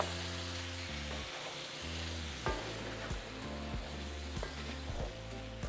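Deviled shrimp and potatoes sizzle steadily in sauce in a pan, a continuous close frying hiss with a low background hum and a few faint clinks.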